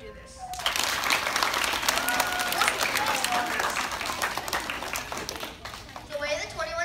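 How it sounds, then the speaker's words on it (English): Students at a school gathering for a kindness challenge break into sustained crowd applause, many hands clapping steadily; a voice speaks briefly at the start and again as the clapping fades at the end. "Clap if you think you can do this."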